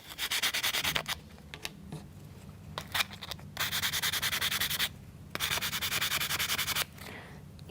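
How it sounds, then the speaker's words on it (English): Wheels of a U-9 Grand Prix scale model car being sanded by hand, heard as close, steady back-and-forth scraping strokes in several rhythmic bursts separated by short pauses. "Sand and wax them."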